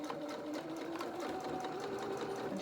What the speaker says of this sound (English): if you're careful you'll be able to sew this shirt without catching the elastic